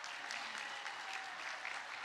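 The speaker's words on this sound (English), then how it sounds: "give them an enthusiastic round of applause." Dense applause from a large audience at a Quinnipiac University graduation ceremony, steady and even throughout, with no voices on top.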